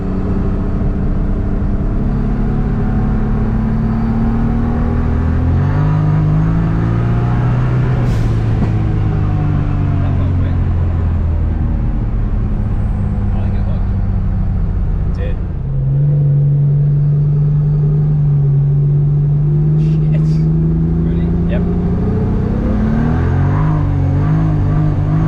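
A car engine drones loudly under heavy load during a test run, rising and falling in pitch as it revs and settles. The roar holds steady and close for the whole stretch, with no talk over it.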